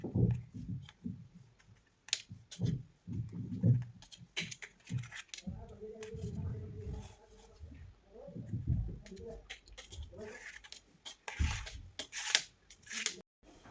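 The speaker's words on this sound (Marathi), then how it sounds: "गरम आहे तोपर्यंतच वडी कापून घेते." A knife cuts through warm banana fudge (vadi) topped with cashew and almond pieces, giving soft scraping and tapping strokes against the tray; someone talks over much of the cutting.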